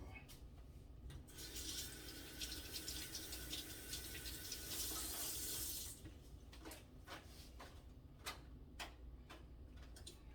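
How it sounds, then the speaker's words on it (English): Fresh herbs rinsed under a running kitchen tap, a steady splash of flowing water with faint ticking drips and small clicks, the flow stopping partway through and leaving quiet ticks. "I'm gonna rinse them off for all of you fanatics about the rinsing off of the herbs."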